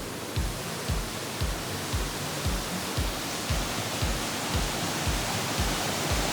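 A Central American waterfall gives a constant broadband rush at moderate distance, with a regular low thumping pulse running beneath it throughout.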